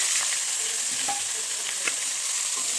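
Ridge gourd and green chili tipped into hot oil for a thin fish and ridge gourd curry give a steady, close sizzling hiss with a few faint pops and stirring clicks, and no one talks.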